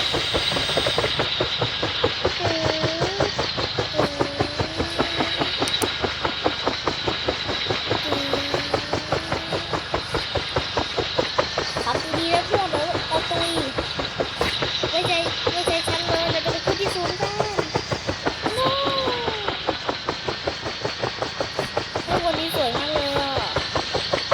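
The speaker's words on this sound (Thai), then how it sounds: "สตาร์ทเครื่อง สตาร์ทเครื่อง" A helicopter engine in the sandbox game Melon Sandbox starts and runs with a fast, loud, continuous pulsing drone, and a voice talks over it throughout.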